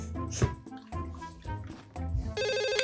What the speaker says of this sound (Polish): O, telefon dzwoni.